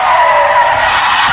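Tires squeal loudly and continuously as a car skids in a traffic wreck, a sustained high screech that stays close with no talking.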